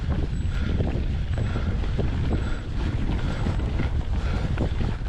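Headwind buffets a cyclist's microphone while riding uphill, giving a loud, close, continuous low rumble and gusty roar throughout.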